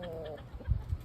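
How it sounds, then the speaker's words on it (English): Chickens and roosters clucking inside a farm coop, a few low, soft clucks and muffled bumps heard nearby against a quiet background, with no talking. "And here's some of my chickie chicks."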